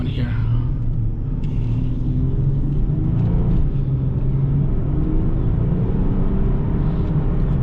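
A 2015 Nissan 370Z coupe with a 7-speed automatic drives off, its engine a deep steady rumble heard from inside the cabin, with someone talking over it.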